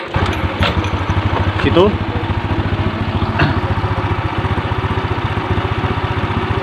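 A Honda Revo Absolute motorcycle engine with a faulty regulator runs after a kick start, a rapid steady putter close by, with someone talking briefly over it.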